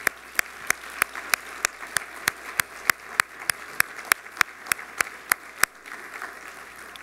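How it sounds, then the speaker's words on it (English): Applause at an Iowa character awards ceremony comes as sparse, evenly spaced single claps, about three per second, fairly close, stopping near the end. "let's give them a round of applause"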